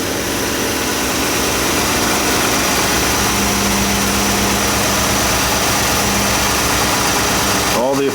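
A car engine idles steadily during a battery and cranking test with an Autel MaxiBas BT608 tester, a loud, even low hum running continuously, ending with a brief clatter.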